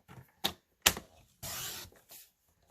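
Paper trimmer cutting cardstock makes a few sharp clicks followed by a short sliding swipe of the blade, close and quiet, with brief pauses between.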